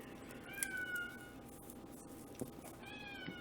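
A cat meows a couple of times, with drawn-out, slightly rising cries that sound close but fairly soft over a quiet room background, and no one speaks.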